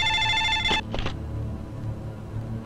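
A telephone rings with an electronic trill, two short bursts followed by a quieter tail, heard alone over a low room hum with no speech.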